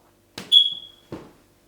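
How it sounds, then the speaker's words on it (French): Smoke detector in an Airbnb gives a single short high-pitched chirp, close and clear, set between two soft knocking sounds in an otherwise quiet room. "il y a le détecteur incendie qui bip toutes les 2 minutes"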